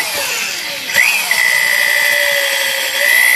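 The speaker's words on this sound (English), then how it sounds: "I'm gonna drill one hole" A power drill whines steadily at close range while drilling a hole for a tucked radiator install on a Civic, briefly catching and pitching up before settling into a continuous high drilling tone.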